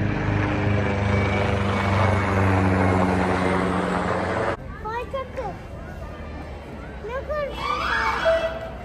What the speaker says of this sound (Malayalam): ഹെലികോപ്റ്റർ കിടന്ന് കറങ്ങുന്നുണ്ടേ.